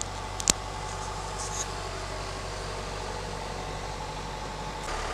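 Farm tractor sitting outdoors with its engine idling, a steady low mechanical drone and hum running throughout, with a brief sharp knock near the start.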